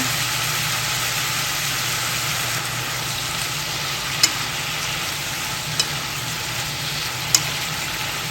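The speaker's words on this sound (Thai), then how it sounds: "เสร็จแล้วก็ใส่คาสิโชยุไปสองช้อนนะคะ เติมมิลินไปเล็กน้อยนะคะ" Soy sauce and mirin sizzling in a hot pan, a constant close hiss and crackle with a low steady hum beneath and three faint clicks late on.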